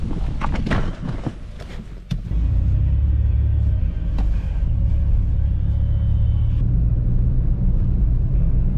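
A car pulls out onto the road after a few thuds and clatter, then a steady low engine and road rumble carries on at close range with no talking.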